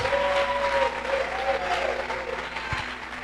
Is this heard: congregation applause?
yes